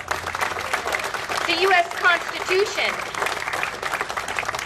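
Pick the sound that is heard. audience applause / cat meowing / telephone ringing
audience applause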